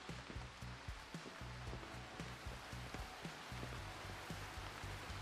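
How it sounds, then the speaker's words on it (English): Steady rain falling on a surface, a constant broadband hiss with scattered drop patter, continuous at moderate level, with low rhythmic thumps underneath and no talking. "And it's rainy"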